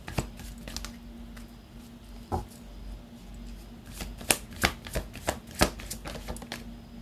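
Tarot cards being shuffled and drawn, a string of crisp papery riffles and slaps that grow sharper and more frequent toward the end, fairly close and on their own with no talking.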